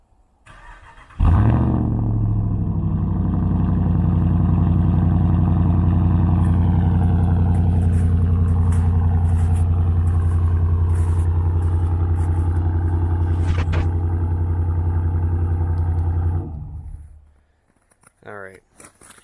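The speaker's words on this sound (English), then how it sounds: "now we're going to take a look at the moderately warm start on the truck outdoors" A 2019 RAM 1500 pickup truck engine starting moderately warm outdoors, cranking to life and settling into a steady, loud idle rumble for about fifteen seconds before cutting off.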